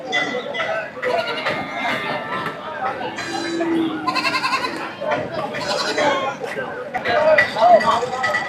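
Goats bleat repeatedly at a busy Tamil Nadu goat market, several animals calling close by in overlapping cries amid constant crowd chatter and people talking.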